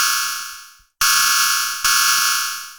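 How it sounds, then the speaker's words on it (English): A synthesized cymbal hi-hat built from its resonances, still unfiltered. Three bright, harsh, metallic hits ring out in a row, each decaying slowly, with a brief gap before the second. "you can hear how this kind of sounds like a cymbal"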